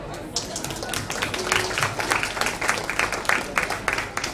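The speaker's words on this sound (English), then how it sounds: "I think that deserves a round of applause" Crowd applause at a bookstore book launch, a steady wash of many hands clapping at close range that holds fairly even and loud throughout, with no voices standing out.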